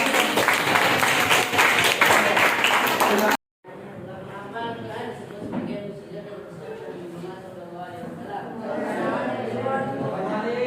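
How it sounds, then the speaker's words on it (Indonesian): A class of students claps for about three seconds during an Al-Quran Hadith lesson in an Indonesian school classroom, a lively burst of clapping that cuts off abruptly. Quieter room murmur and voices follow. "tepuk tangan buat Al-Quran"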